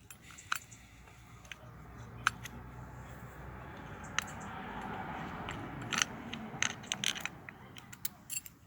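Oil pump tube clip pried off a Yamaha DT50MX engine during disassembly, giving sharp metallic clicks and small clinks scattered over a quiet workshop background, close and fairly faint.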